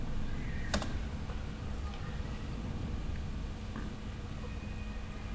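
Localhost typed on a computer keyboard, a few faint key taps and one sharper click over a low background hum.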